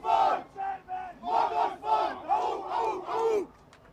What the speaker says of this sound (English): TMS is cheering because it's the fastest combustion car for now